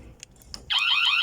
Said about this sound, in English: that's some ringtone